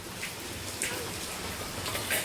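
Steady heavy rain hisses across surfaces, with water running off the eaves and scattered drops tapping nearby in a constant, moderately loud wash.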